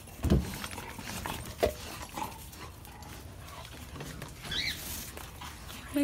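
Dogs in a family house bark and whimper in short bursts, one sharp yelp near the start and another soon after, with scattered rustling and household noise between them.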